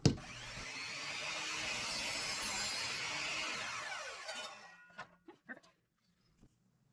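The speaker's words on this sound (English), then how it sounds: "I'm going to get this cut down on the miter saw" A miter saw cuts through wood for a homemade bird feeder: a loud, steady whining cut lasts about four seconds, then spins down, followed by a few light knocks and taps.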